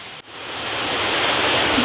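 Rushing water swells in after a brief dip, settling into a steady, broad hiss like a fast-running creek nearby; a rain-swollen creek behind a workshop after rain has stopped.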